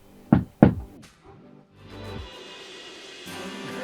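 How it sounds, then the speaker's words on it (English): Two sharp, loud knocks on a house door in quick succession, followed by low shuffling and room noise. "I'm about to knock on his door"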